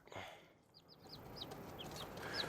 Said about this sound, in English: so little chickens, they're getting big